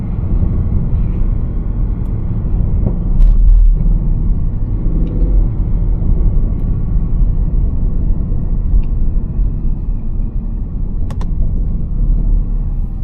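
A Mercedes-Benz C63 AMG W204 with a 460 hp engine and seven-speed AMG Speedshift gearbox, heard from inside while driving: a loud, steady, deep engine and road rumble with small swells, no talking.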